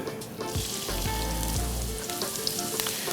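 Ginger sizzling and frying in hot oil in a wok or pan, a steady close crackle with a brief low clunk and scraping stir midway.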